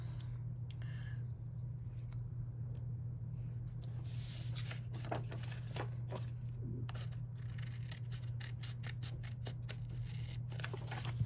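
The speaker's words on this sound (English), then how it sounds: "I'm gonna cut these apart." Scissors snip apart sheets of planner stickers in a series of quiet, close, irregular cuts over a faint steady hum.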